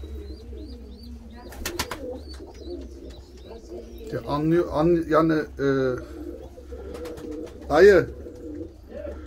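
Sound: birds cooing

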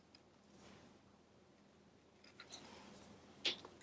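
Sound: scissors trimming adhesive paper

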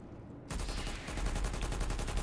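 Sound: gunfire in video game Planetside 2

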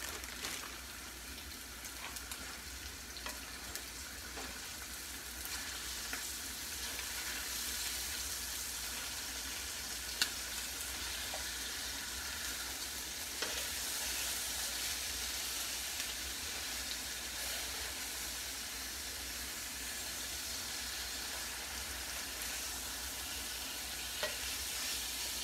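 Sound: pork chop sizzling while pan-searing

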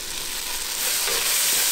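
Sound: onions frying and sizzling in a pan

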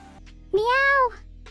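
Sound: voice imitating cat meow

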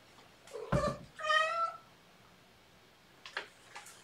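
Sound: cat meowing

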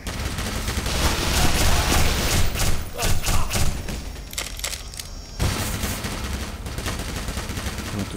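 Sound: gunfire in a video game

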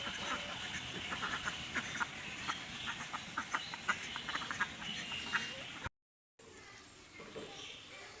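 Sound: ducks quacking

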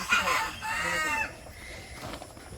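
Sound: rooster crowing

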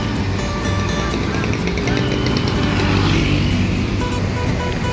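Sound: bus with Hino RM 280 chassis departing

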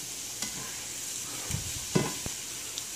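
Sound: cut-up chicken frying in 12-inch Green Earth frying pan

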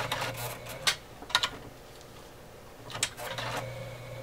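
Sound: OMEGA 307 sewing machine sewing thick fabric slowly

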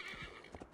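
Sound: horse neighing in the video game Assassin's Creed Valhalla

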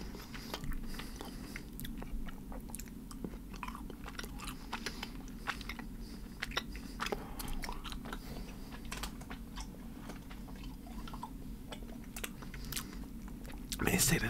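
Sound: chewing Sour Patch watermelon gummy candy

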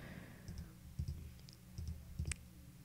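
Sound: computer mouse clicking

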